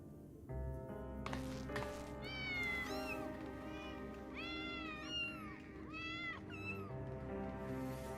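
Several kittens meow repeatedly in the video game Final Fantasy XIV, clear high rising and falling mews in quick succession over a steady low musical drone, fairly close, with no talk.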